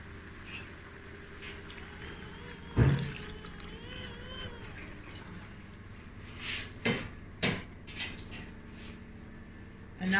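Water is poured into a pot of green bean and potato stew, with soft splashing and several sharp clinks of a pot and utensils standing out close by.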